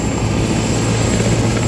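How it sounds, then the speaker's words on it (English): A helicopter flying near the airport at Barrow, Alaska, carrying an underslung load; its steady, loud rotor and engine drone fills the whole stretch without pause. "we saw this helicopter carrying something into the airport"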